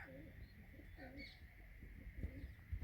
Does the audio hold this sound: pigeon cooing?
yes